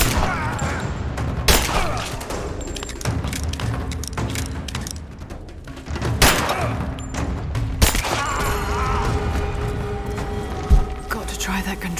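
Bursts of gunfire and a grenade blast in the Rise of the Tomb Raider action game sound loud and dense across the stretch, with sharp impacts over continuous combat noise.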